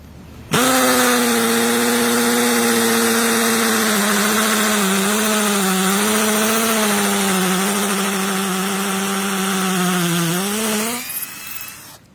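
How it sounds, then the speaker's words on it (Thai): A loud, steady motor drone with a continuous whine from an 84V Mekata cordless hammer drill drilling concrete, running without pause for about ten seconds before cutting off, with no voices. "เดี๋ยวเรามาทำการรีวิวเจาะปูนนะครับ"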